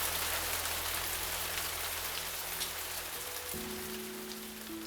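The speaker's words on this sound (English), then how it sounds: "The slight drizzle of rain outside is making it difficult to see." A light drizzle of rain patters steadily and continuously in the visual novel game Cupid Parasite, a soft even hiss with faint low background tones underneath and no voices.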